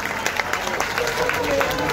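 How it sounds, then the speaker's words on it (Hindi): Applause from a crowd at a political party workers' rally in Delhi, a steady broad patter of clapping lasting about two seconds and swelling slightly toward the end, with voices mixed in. "सभी साथी खड़े होकर के अनुका तालियों स्वागत करेंगे"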